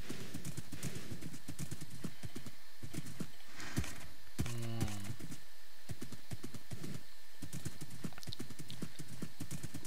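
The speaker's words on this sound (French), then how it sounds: "Donc avec un cheval c'est très rapide." Rapid hoofbeats of a horse galloping in a survival video game set in the Nether, a steady clip-clop rhythm running throughout at close range, with a brief whinny partway through and faint talk underneath.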